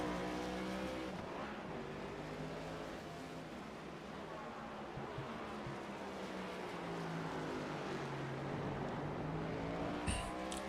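Next Gen series race cars circle the Road America track, a faint, distant engine drone that rises and falls continuously as cars pass.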